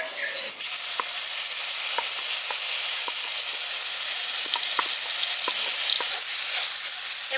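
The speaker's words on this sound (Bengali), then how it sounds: "এবার এই মশলাটাকে একটু ভাজা ভাজা করে নিচ্ছি, যেহেতু এটা রসুন, কাঁচা রসুন দেওয়া আছে" Raw garlic spice paste frying in hot oil in a wok, a loud steady sizzle that starts abruptly and carries on with faint scraping stir clicks scattered through it.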